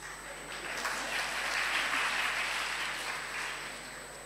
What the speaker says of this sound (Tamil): தைரியமா கைதட்டுங்க பெண்களே